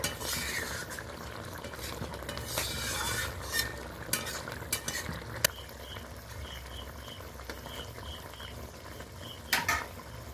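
A spoon stirs garam masala through a sole fish kalia in a pot, scraping steadily and continuously over a soft simmering sizzle, with a few sharper clinks of metal against the pot.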